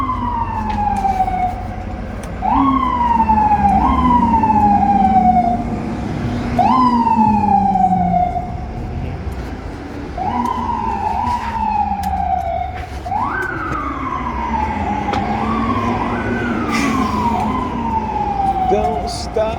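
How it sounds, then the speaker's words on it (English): A fire truck siren wails repeatedly in rising and falling sweeps, fairly close and loud over a low rumble of traffic. "The sirens behind me, as usual."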